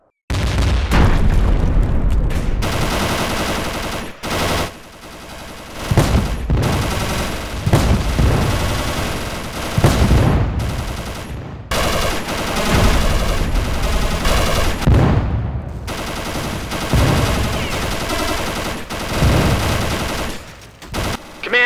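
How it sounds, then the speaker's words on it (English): Recoilless guns and other weapons fire during a raid in a military video game: heavy booms and rapid bursts of gunfire come in dense, repeated volleys, loud and close, with no talking. "Recoilless guns, destroy the southern towers first, then destroy the other towers and buildings 1, 2, 6, and 7."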